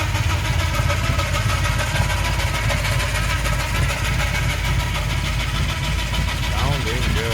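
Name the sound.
1955 Chevrolet 210 wagon street rod engine idling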